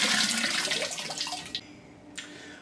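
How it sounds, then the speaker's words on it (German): A hose sprays water inside a DI filter housing to rinse out leftover resin, a loud broad rushing hiss that fades after about a second and a half, leaving a quieter trickle with brief splashes. "we're going to use a hose, spray inside and get the rest of it out so that it's completely clean"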